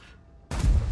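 After a quiet moment, a single heavy cannon blast from the E 77 heavy tank in a video game booms out with a deep, rumbling low end.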